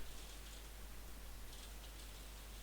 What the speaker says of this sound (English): it's just rain hit the window really hard